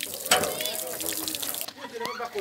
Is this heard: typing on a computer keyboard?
no